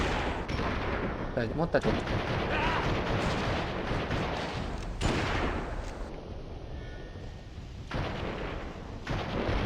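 Sustained gunfire and booming blasts from a shooting video game pound almost without pause, with short lulls, while someone talks over the action.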